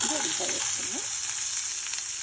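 Onion sizzles in hot oil in a pan with chana dal, chilli and curry leaves for a brinjal curd chutney, a steady close hiss with brief tonal squeaks early on and no talking.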